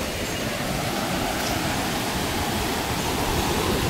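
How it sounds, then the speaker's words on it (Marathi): Rough, churning sea at Alibag on the Maharashtra coast, a steady, dense roar of surf filling the whole stretch without a break, loud and close, with no voices. "हा खवळलेला समुद्र"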